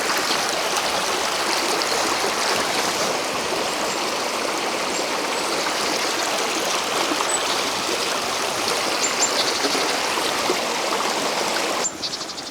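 A mountain river in Romania rushes steadily and loudly close by, a continuous broadband wash of flowing water with no pauses, holding even for about twelve seconds before a slight drop at the very end.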